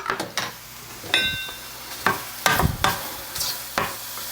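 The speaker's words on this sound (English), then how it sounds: "I gotta get back to my mushrooms and give them a stir here." Mushrooms sizzle in a pan while a utensil stirs them, giving a steady close frying hiss broken by several sharp scraping and clacking strokes.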